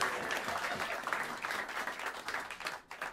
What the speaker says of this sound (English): please give a big round of applause for Monte Croft